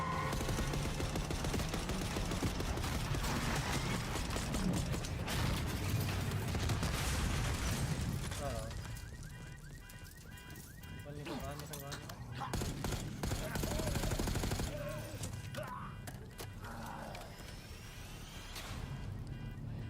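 Gunfire in the Call of Duty Black Ops 6 campaign, with dense, continuous automatic bursts and heavy shots, loud and close, easing into scattered fire as voices talk over the action.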